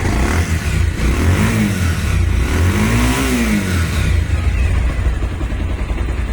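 A 2019 Bajaj Pulsar motorcycle engine revs up and down in loud, close bursts, rising and falling pitch sweeps over a steady rumbling idle with some mechanical clatter.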